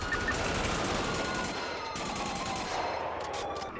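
Rapid gunfire from a roleplay shootout video game set in a Little Seoul area, a dense stream of sharp cracks and bursts that fills the short stretch without pause.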